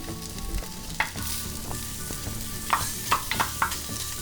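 Rice and bacon stir frying on a Rec Tec Matador griddle, a continuous close sizzle broken by a few sharp scrapes and clinks of a spatula working the food.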